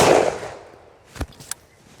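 Two sharp reports from a DSArms G1 clone rifle, spaced about a third of a second apart, follow a fading noisy tail from an earlier shot; the cracks are moderately loud and there is no talking.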